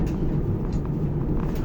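A truck rumbles past behind a person outdoors, a steady low broadband roar that holds level throughout the moment rather than rising and fading.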